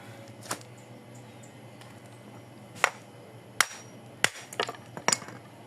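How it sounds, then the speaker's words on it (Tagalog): Several sharp hammer strikes on a hard, thick amplifier transformer, spaced irregularly and growing more frequent toward the end, with quiet background between blows. "Pukpukin muna natin to ng martilyo kasi matigas to"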